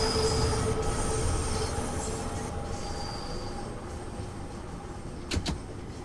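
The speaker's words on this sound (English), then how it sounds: "The wheels are grinding on the tracks." Simulated London Underground Bakerloo Line train wheels grind and squeal on the rails between Queen's Park and Elephant & Castle, a loud continuous metallic rumble with shrill screeching that eases slightly toward the end.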